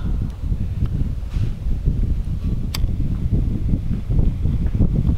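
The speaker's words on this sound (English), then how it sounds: "That wind is going to be my nemesis." Steady outdoor wind buffeting the microphone as a continuous loud low rumble with gusty fluctuations, around a titanium firebox stove being loaded with seasoned maple.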